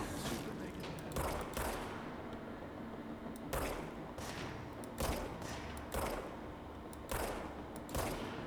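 Gunfire crackles in the video game Control, with sharp shots and short bursts at irregular intervals over a constant game soundscape, loud and close.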